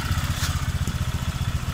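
Honda Vario 125 scooter engine held at full throttle, a loud, steady pulsing drone with rapid regular firing beats, close up and without voices.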